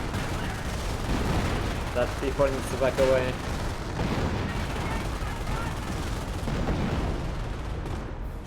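An off-map artillery strike and gunfire in the Company of Heroes video game, with scattered booms and crackling shots that sit under a commentator's voice.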